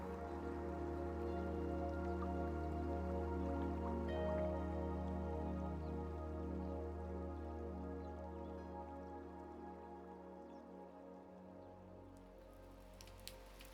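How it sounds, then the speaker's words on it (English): Steady rain falls and drips outside an old bookshop on a city street, a soft, continuous wash of drops that fades a little toward the end, with no voices. "The rain had just begun to fall"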